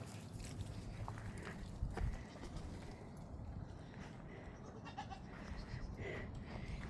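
A few goats bleat now and then over soft shuffling footsteps and low background rumble.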